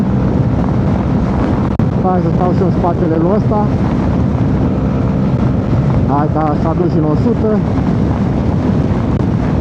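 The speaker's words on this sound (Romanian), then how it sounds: "Mamă, dar bate vântul rău din față." Loud, constant headwind roar buffeting the microphone while riding a motorcycle at speed near Blankenberge, Belgium, with an engine droning underneath and someone talking over it.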